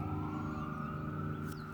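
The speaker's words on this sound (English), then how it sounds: "had to wait for that ambulance to go by" Ambulance siren passing along a street near a garden: a faint, steady siren wail heard from a distance under traffic hum, with no talking.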